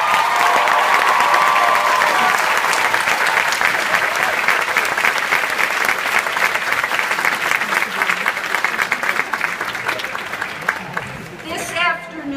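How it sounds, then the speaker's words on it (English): Loud, sustained applause from a large graduation audience in a big hall, dense clapping filling the space and slowly thinning toward the end as a voice begins to speak. "I ask that you applaud them."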